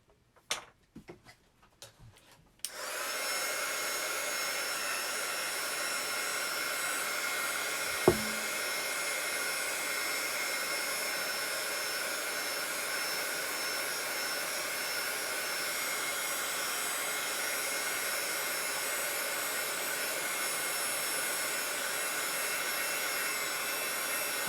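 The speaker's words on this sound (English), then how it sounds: "now I'm going to hit it with the heat gun" A heat gun blows hot air onto a resin piece on a thrifted rolling pin towel holder. After a few taps and a brief pause it starts, then holds one steady, loud, broad rushing whir for about twenty seconds, with a single knock partway through.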